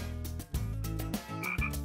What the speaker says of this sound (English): or this little frog